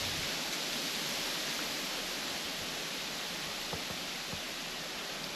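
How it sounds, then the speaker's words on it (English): Strong wind gusting outdoors at a whitetail bowhunting stand beside an oats food plot, a steady broadband rushing roar that holds loud throughout with no talking. "You can hear the wind is blowing stronger."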